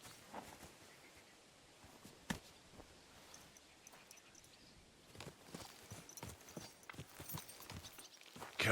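Hooves of a horse in the video game Kingdom Come: Deliverance II clip-clop at a slow walking pace, soft at first and growing steadier and closer, with faint ambient noise behind.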